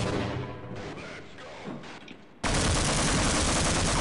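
A tank fires in the video game Half-Life: after a stretch of quieter rumbling ambience, a single sudden, very loud blast erupts up close and its roar holds at full strength, with no talking.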